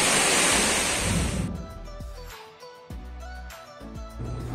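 A waterfall roars as a broad, loud rush of falling water at first, then fades and grows patchier, with rumbling gusts and handling noise taking over in the later seconds.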